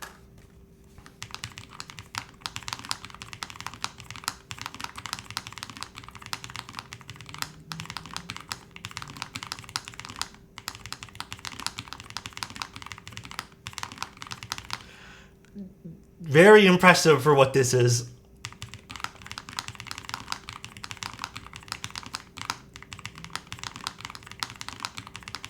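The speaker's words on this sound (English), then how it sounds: "I'll take one more listen to this keyboard again." Typing on a Lofree Edge mechanical keyboard, a fast run of close, crisp clacks that pauses for a few seconds while someone speaks, then resumes at a steady pace.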